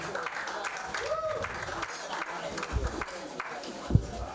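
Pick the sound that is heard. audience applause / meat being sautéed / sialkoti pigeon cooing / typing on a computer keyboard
audience applause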